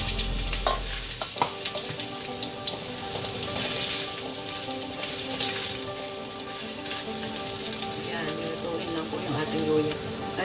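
Ginger sizzling and frying in a pan for chicken arroz caldo, a steady close crackle with occasional stirring scrapes, heard alone without talk.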